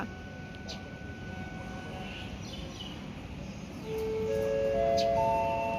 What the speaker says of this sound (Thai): สัญญาณให้ไม้กั้นลงแล้วค่ะ